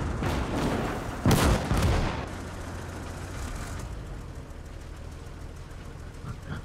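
Gunfire in the World War II game Gates of Hell, with one heavy booming shot and its echo standing out among a few earlier distant cracks, then fading into a low engine rumble.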